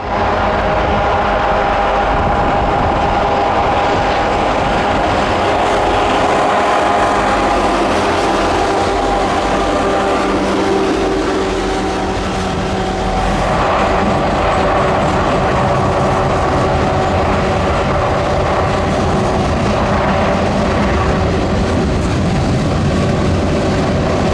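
A heavy freight train led by three SD60E locomotives passes on a mountain line at Cresson, giving a loud, steady rumble and engine drone that holds for the whole stretch with no talk.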